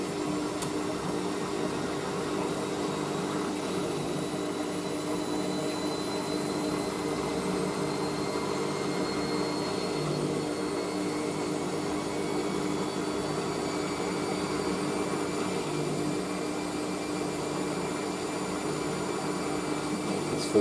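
A new washing machine running its drum at 400 RPM gives off a steady, even whir and rumble that holds at the same low level throughout, with no voices over it.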